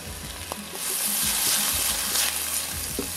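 Garlic hits a hot pan that already holds fish, setting off a bright, steady sizzle that swells after a moment and holds close and clear, with faint stirring clicks and no voices.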